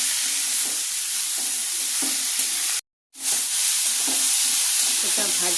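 Bottle gourd pieces frying in oil with salt and turmeric, giving a continuous close sizzle with occasional stirring clicks and a brief drop to silence midway.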